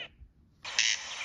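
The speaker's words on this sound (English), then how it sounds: "Western jackdaw." A Western jackdaw gives a short harsh call, then after a brief pause a longer, louder raspy call, sounding close and clear with no other sounds around it.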